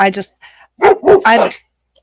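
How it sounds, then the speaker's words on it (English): A dog barks in the background in a few loud, close bursts, including a quick yappy pair followed by three heavier barks, with speech-like sounds mixed in. "And her dog loved it too. You heard that in the background."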